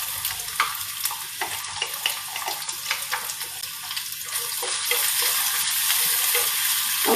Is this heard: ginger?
yes